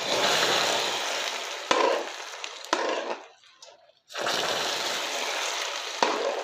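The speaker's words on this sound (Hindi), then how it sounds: "अब कैरेमल को हम खीर में डालेंगे" Hot caramel poured into kheer sets off a loud, hissing sizzle that bursts up in waves, drops almost silent for a moment, then surges back with sharp crackles.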